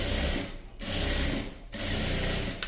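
Sewing machine stitching a neck design onto a dress, running in steady mechanical bursts with two brief pauses, close and fairly loud throughout.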